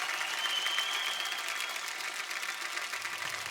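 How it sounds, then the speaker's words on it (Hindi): Studio audience applause on a Hindi TV comedy show, a dense steady wash of clapping held at an even level throughout, with no voices over it. "सूर्य के लिए जोरदार तालियां"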